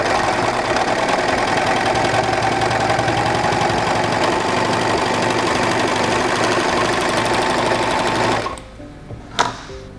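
A SINGER 14CG754 serger runs steadily and loudly while test-sewing a seam, its fast mechanical whir holding for about eight seconds before stopping abruptly, followed by a short click in near silence.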